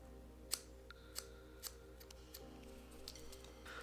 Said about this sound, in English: So I'm gonna hold them together and cut them off the same length.